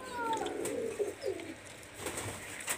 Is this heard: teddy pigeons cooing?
yes